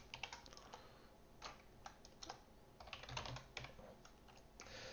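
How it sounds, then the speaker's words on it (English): Someone types on a computer keyboard, giving quiet, close, irregular clicking keystrokes in bursts with short pauses and no talking. "while I'm typing this out"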